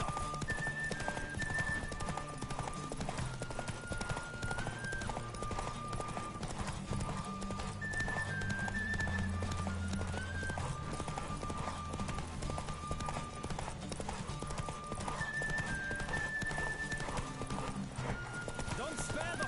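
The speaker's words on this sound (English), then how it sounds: "Don't spare the horse!" A galloping horse races in The Witcher 3 video game, with steady rapid hoofbeats pounding throughout, an occasional whinny, and music and speech layered over the running.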